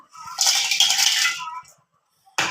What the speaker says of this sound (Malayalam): അതിലേക്ക് നമ്മൾ നമ്മുടെ നന്തൽ ഇട്ട് കൊടുക്കുകയാണ്